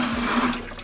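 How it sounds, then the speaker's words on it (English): Fluid gushes from the drain plug hole of a C5 Corvette engine during a teardown, a steady close rushing splash of liquid heard briefly on its own. "it's supposed to drain out of that, not shoot it out like that"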